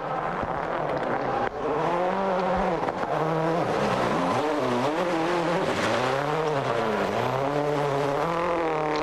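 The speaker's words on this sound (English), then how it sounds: "Reyes just losing the back end momentarily there in the Munchies machine." A rally car racing along a gravel stage at Rally Argentina 2007, its engine loud and close, revs rising and falling through gear changes, with gravel crunch underneath.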